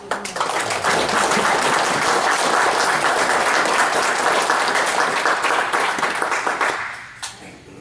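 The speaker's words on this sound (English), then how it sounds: "just give her a little applause" Audience at a Tea Party meeting breaks into sustained applause, dense clapping holding steady for several seconds before thinning out to a few scattered claps at the end.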